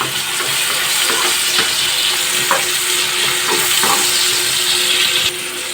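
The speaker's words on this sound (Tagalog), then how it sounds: "Haluin natin yung sangkap natin na ingredients na napakabisa." Frying-pan stirring of the adobong talong ingredients, with a steady loud sizzle and scattered scraping strokes of the utensil throughout, close up, no voices.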